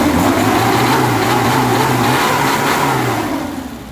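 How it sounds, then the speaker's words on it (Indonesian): A 1994 Suzuki Katana 4x4 off-road jeep with a Herder 41 exhaust revs loudly up close, its engine climbing then holding a steady mid-pitched drone before easing off near the end, with no voices. "Kita gas pemirsa."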